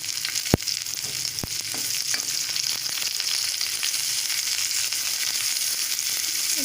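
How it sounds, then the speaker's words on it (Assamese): Onions sizzle steadily in hot oil in a pan, a continuous bright frying hiss with a couple of sharp utensil clicks early on. "এতিয়া পিঁয়াজখিনি অলপ ভাজি ল'ম।"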